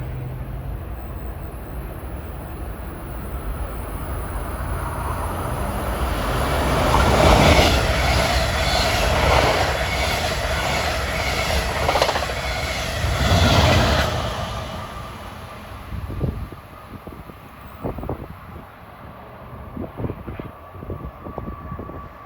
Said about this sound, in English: Here comes train 3949, another one of those express trains at 5:39.